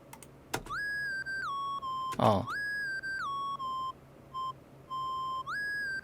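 A buzzy sine-wave synth lead with heavy distortion plays a short stepped melody of sustained notes with quick pitch slides, separated by brief gaps, plus a click and a noisy burst.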